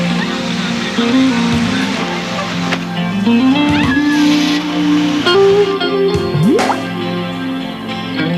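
A car driving past with squealing tires, a loud steady engine roar with sliding tonal squeals rising and falling, close and continuous.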